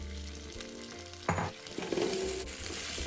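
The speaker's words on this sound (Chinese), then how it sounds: "接着再加入芋頭與木薯，" Taro and tapioca hit golden caramelized sugar in a hot pan, giving a loud steady frying sizzle with a sudden burst as the pieces go in and stirring scrapes afterward.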